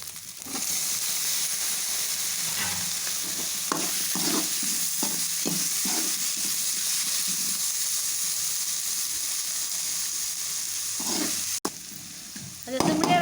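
Tomato masala for vada curry sautéing in a pan, a steady sizzle broken by a run of spatula scrapes and clacks through the middle, close-up, with no talk.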